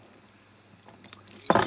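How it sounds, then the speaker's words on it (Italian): A bunch of uncleaned rusty keys, abandoned for some twenty years, jangles close by in a sudden burst near the end after quiet handling sounds, loud and metallic. "Vediamo un mazzo di chiavi non pulite."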